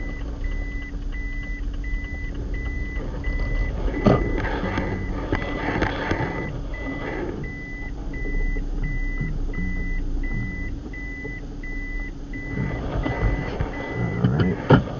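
A car's reversing warning beeps repeat in a steady, regular rhythm during parallel parking on a road test, with engine and road rumble underneath and occasional clicks and bumps.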